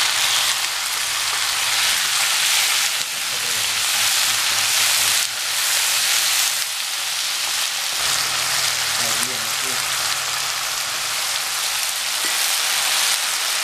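Chopped onions and tomato sautéing in a pan for Tamil dal, with a loud, continuous sizzle and crackle that sounds close to rain, alongside occasional stirring and faint talk in the background.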